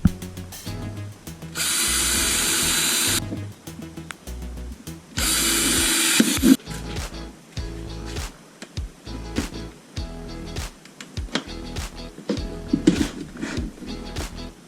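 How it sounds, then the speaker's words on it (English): A power drill runs in two bursts of a couple of seconds each, drilling holes in a box for kayak storage, followed by clattering and handling noises nearby. "Drill the holes at the marks you just made"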